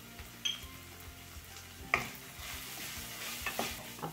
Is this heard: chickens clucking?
no